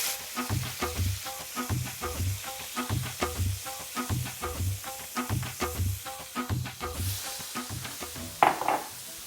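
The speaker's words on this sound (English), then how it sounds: "going to be cooking out our onion paste and putting a few of the woody spices in" Onion paste frying in oil in a pot for a one-pot chicken bhuna, with loud rhythmic stirring scrapes repeating about twice a second over a continuous sizzle, then a sharp hissing flare at the end.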